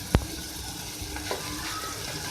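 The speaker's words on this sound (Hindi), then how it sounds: "स्टार्ट सबसे पहले हम ऑयल में ऐड करेंगे जिंजर गार्लिक पेस्ट।" Ginger garlic paste frying in hot oil, a continuous moderate sizzle with one sharp knock of a utensil at the start and faint stirring sounds after, no talking.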